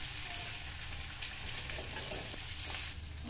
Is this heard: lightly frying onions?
yes